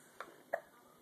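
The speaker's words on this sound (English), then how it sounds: "Hiccup." A baby hiccups twice in quick succession, two short, soft, close-up catches about a third of a second apart against a quiet indoor background.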